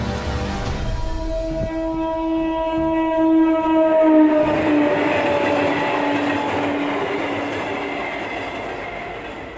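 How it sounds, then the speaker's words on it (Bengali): A train passing a small rural station in Purulia at night, a loud rumbling roll with clattering wheels and a sustained tonal squeal and whine, swelling and then slowly fading as it moves away. "রাতের শেষ ট্রেনটা কিছুক্ষণ আগেই আমার সামনে থেকে বেরিয়ে গেল"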